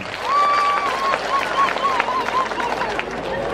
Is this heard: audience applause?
yes